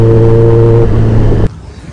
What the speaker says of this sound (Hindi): और भाई इस बाइक की तो आवाज़ ही मतलब कि इतनी प्यारी है साउंड।